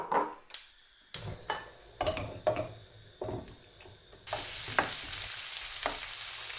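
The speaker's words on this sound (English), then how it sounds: "I'm going to put some of the olive oil in that I put the lemon balm in, just to saute them." Fresh garden onions dropped into olive oil infused with lemon balm and sautéed, a series of sharp clacks and stirring knocks followed by a sizzle that grows louder and steadier partway through.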